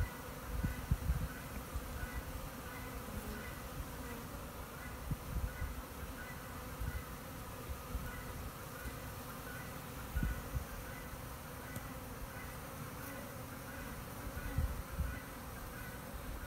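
Honeybees buzzing around their hives while being fed sugar-water syrup, a steady, soft, continuous hum of many insects close by, with no talking.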